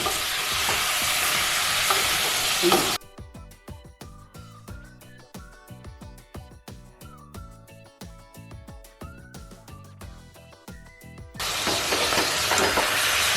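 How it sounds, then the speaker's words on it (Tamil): Country chicken sautéing in sesame oil for a village-style gravy gives a loud, steady sizzle that opens the clip, gives way to music, then returns near the end. "இந்த நல்லெண்ணெயில் நல்லா வதங்கிருந்துச்சு சிக்கன்"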